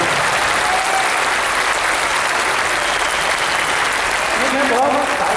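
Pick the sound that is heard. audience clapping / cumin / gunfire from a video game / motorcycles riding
audience clapping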